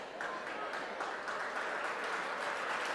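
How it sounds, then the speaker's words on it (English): A home crowd applauds steadily during a South Jersey Group II wrestling playoff match at Lower Cape May, a dense, even wash of clapping from the stands at moderate distance. "a nice little round of applause from the Lower Cape May faithful"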